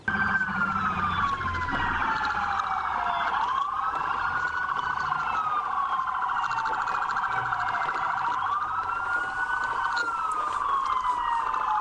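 A wailing police siren sweeps up and down continuously, loud and close, with a steady rising-and-falling tone and no talking.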